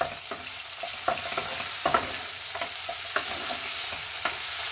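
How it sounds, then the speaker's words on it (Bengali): Onion, ginger and garlic paste frying in oil in a pan for koi fish, a steady close sizzle with scattered soft stirring clicks and scrapes. "পেঁয়াজ, আদা, রসুনটা বাটা দিয়ে দিলাম।"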